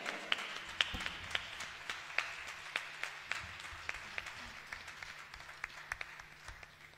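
Sparse, thinning applause from a small audience at a live concert presenting a CD, with distinct individual claps ringing out at uneven intervals over a faint hum.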